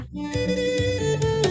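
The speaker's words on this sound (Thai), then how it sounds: "ไวโอลินนะคะ" A violin plays sustained, clearly pitched notes close by, shifting between a few tones with bright bowed harmonics and soft attacks, heard alone without any voices.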